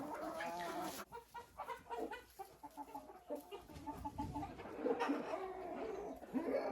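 Chickens in a backyard coop, fed weeds and fallen apples, cluck and chatter close by in uneven bursts, with a few louder calls among the flock.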